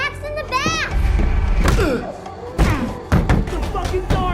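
A door slams twice in quick succession, heavy thuds landing amid excited voices and household commotion, with children's chatter audible earlier.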